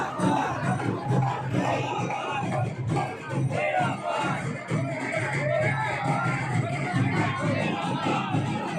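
A dense crowd gathered at the Dana Sarkar dargah during an urs celebration fills the air with continuous loud chanting and shouted voices, close and unbroken throughout.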